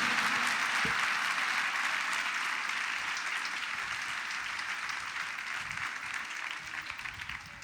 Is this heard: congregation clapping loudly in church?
yes